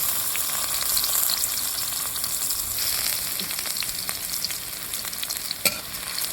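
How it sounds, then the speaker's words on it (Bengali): Chopped onions fry in oil in a wok (kadai), giving a dense, continuous close-up sizzle with crackling pops throughout and one sharper spatter near the end. "পেঁয়াজ কুচিটাকে আমি বাদামি করে ভেজে নেব।"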